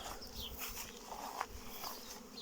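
Carniolan honey bees fly around a pair of hives, a soft, quiet buzzing with individual bees zipping past close by over a faint background hum.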